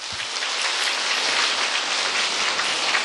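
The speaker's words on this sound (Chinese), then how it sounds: "来为他们鼓掌一下" Steady applause from an audience at a Buddhist filial-piety Dharma assembly, thanking volunteers; dense, even clapping fills the whole stretch at moderate loudness with no talk over it.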